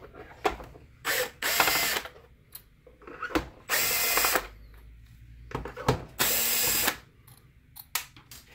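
A power screwdriver whirs in several short bursts, each with a ratcheting buzz, while screws are backed out of the underside of a BenQ W1080ST DLP projector. Quiet clicks and handling noises fall between the bursts, close up and with no voices.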